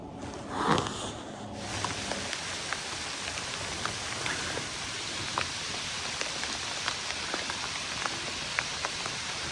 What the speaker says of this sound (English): the rain started. But the rain's really picking up now